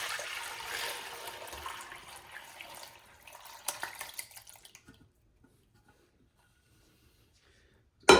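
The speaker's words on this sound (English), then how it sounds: "I'm just going to run this through the sift or my strainer." Homemade Jamaican sorrel drink poured through a strainer, a liquid trickle and splash for a few seconds, then dripping that tapers off into near silence before a sudden loud knock at the end.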